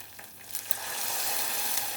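Chicken doner sizzling in a pan as water is added, a bright hiss that swells and holds steady, close and fairly quiet with no talking.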